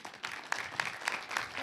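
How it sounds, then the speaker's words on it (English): Audience applause follows a call to clap during a live interview event, a steady wash of many hands clapping with a few sharper peaks, moderately loud and brief. "Clap it up, y'all. Clap it up."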